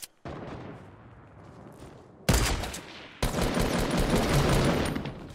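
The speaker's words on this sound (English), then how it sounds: "Someone's shooting him in the back." Gunfire in the video game Fortnite Battle Royale, loud and close, with a sharp opening shot followed by sustained bursts of rapid automatic fire that grow denser and harsher toward the end.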